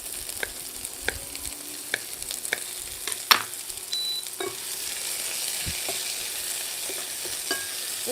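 Sea bream and sardines cook in a pan over medium heat with a steady, moderate sizzle and occasional sharp pops and utensil taps scattered throughout.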